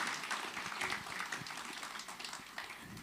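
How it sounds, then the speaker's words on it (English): Faint, distant applause from a conference audience welcoming the President of the Republic of Kenya, a steady wash of clapping throughout at low level. "A round of applause, please, to the President of the Republic of Kenya"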